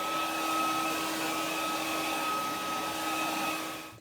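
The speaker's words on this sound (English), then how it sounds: "Take the hair dryer, hot, go over it again." A hair dryer blows steadily and loudly with a constant whine, running without a break before cutting off at the very end.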